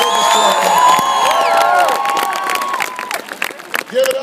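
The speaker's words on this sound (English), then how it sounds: "Can everybody please give Mike a big round of applause" A rally crowd at a community college event cheers and applauds loudly, with whoops and shouts over steady clapping that fades somewhat toward the end.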